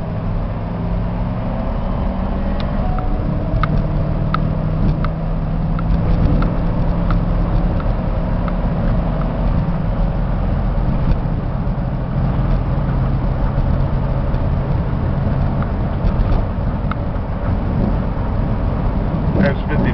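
A GMC 3500 10 ft box truck with dual wheels drives along, its engine and road rumble holding steady and loud throughout, with a faint voice now and then over the drone.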